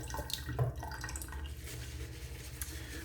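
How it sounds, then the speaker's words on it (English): Water trickles and drips into a tub of Cella shaving soap, soft splashy drops and a light pour, quiet and close, with no speech. "I'm gonna add a little bit of water."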